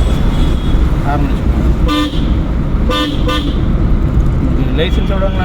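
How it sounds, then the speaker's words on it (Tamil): Car horn honking on a road during a driving school lesson, several short toots sounding over engine and traffic noise, with voices talking nearby. "ஹார்ன்"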